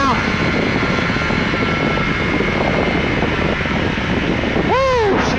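A small airplane's engine drones steadily and loudly in flight, heard from inside the cockpit, with a brief rising-and-falling tone near the end.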